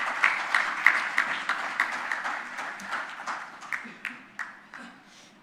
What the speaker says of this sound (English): with a huge round of applause, please welcome our chief guest, Mr. Mohammad Ali.